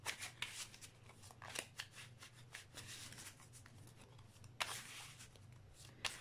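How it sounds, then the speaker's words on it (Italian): A deck of divination cards is shuffled by hand, giving soft papery riffles and rustles in repeated bursts, close and fairly quiet against a low steady hum. "andiamo a prendere il primo mazzetto che andremo a mescolare"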